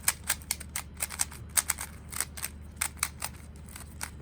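A Monster Go 3x3 speed cube being turned, with quick, crisp plastic clicks coming in rapid irregular bursts, close and clear with no talking.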